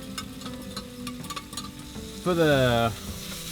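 Halloumi fries in a pan with a steady background sizzle, then a louder hissing burst as it is stirred, with brief spoken words early on.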